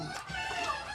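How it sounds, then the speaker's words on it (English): A mixed breed rooster clucks and murmurs steadily at close range, a continuous run of soft throaty calls lasting about a second with no talking over it. "He is just a mixed breed rooster."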